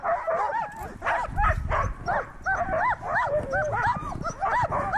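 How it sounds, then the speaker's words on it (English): A team of sled dogs barks, yips and whines eagerly before a run, a dense, continuous chorus of overlapping voices close by. "These dogs, they love to run, and you can tell they're pretty eager."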